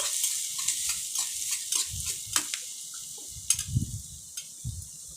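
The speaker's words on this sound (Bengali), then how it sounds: "দেখতেই পাচ্ছ ভাজা ভাজা করে নিচ্ছি" Paneer and potatoes frying in a pan for curry, a soft continuous sizzle with a cluster of spatula scrapes and light clinks near the start and a few dull thumps later, with no talk.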